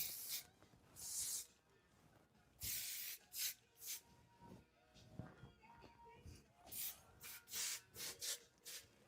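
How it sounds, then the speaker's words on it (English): Repeated short bursts of Moroccanoil hairspray misted onto styled hair, each hissing puff close and sharp, spaced irregularly with brief pauses between, occasional soft rustling and faint voices in the background. "Again, hairspray that I use."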